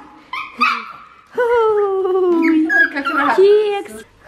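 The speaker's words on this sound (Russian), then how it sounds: "Хочу вас также познакомить с моей маленькой собачкой." A small dog whimpers and whines in long, high, wavering cries with a couple of short yips, close and loud indoors, with a few brief sounds around it.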